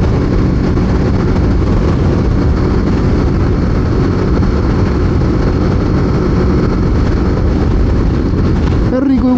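Steady engine drone and wind rush from a 2023 BMW G 310GS motorcycle cruising at 90 km/h in sixth gear while still being broken in, loud and unbroken throughout.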